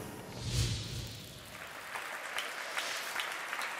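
An opera audience applauds at the close of a five-and-a-half-hour Parsifal performance; a steady, moderate wash of many hands clapping fills the hall, with a brief low rumble near the start.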